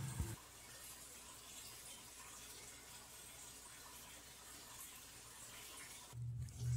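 Water runs steadily into a fish tank during a 50% water change, a soft, even gushing that stays quiet and constant, with a brief low thump near the start and again near the end.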